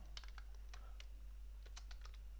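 Keys on a computer keyboard are typed in a quiet, irregular patter of light clicks, close up and with no voices.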